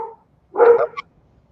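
A large dog gives a single loud, close bark burst with a short yelping tail, standing alone after a moment of quiet.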